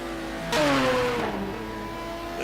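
A Ferrari race car engine in a sim racing game revs through a sudden rising whine, then its pitch drops and eases off into a steady drone, moderately loud with no talking.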